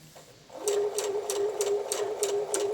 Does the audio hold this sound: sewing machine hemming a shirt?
yes